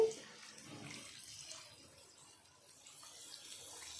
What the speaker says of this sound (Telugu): వాటర్ పోస్తున్నానండి.